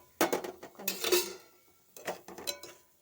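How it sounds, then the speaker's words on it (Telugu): Semolina (rava) roasting in ghee left from frying cashews, stirred in a pan for upma, giving a few close scraping and clinking bursts of a spoon against metal with short pauses between them. "జీడిపప్పు వేయించుకున్న నెయ్యిలోనే కొంచెం రవ్వ కూడా వేసుకొని వేయించుకుంటే ఉప్మా టేస్ట్గా ఉంటుంది"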